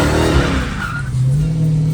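A Dodge Challenger Hellcat Redeye being driven hard, a loud close engine roar with tire squeal and a shifting pitch as it accelerates, with no voices heard.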